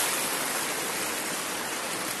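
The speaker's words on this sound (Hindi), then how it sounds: "पानी जैसे कि आप देख पा रहे होंगे बहुत ज्यादा आ रहा है।" A heavy flow of stream water surges past a gharat water mill near Kotdwara, producing a dense, unbroken roar that stays loud and close throughout, with no one speaking.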